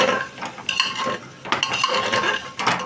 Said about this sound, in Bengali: দিয়ে ভালো করে একটু মিশিয়ে নেব